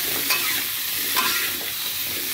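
Capcay vegetables with chicken and seasoning are stir-fried in a pan, with a loud continuous sizzle and a couple of scraping stirs, close up with no voices.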